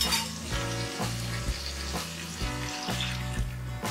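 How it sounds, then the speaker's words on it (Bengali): Tomato masala for a fesha fish curry sizzles and fries in oil in a pan, a close, steady crackle broken by regular scraping stirs about every half second, with no talking. "1 মিনিট কষানোর পরেই দেখুন টমেটোটা একেবারেই গলে গেছে আর তেলও ছেড়ে বেরিয়ে এসেছে।"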